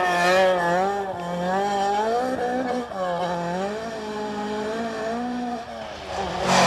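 A rear-wheel-drive Opel Manta 400 rally car at full throttle on a stage of the 1993 Townparks Rally, its loud engine note rising and falling with gear changes, close and continuous throughout.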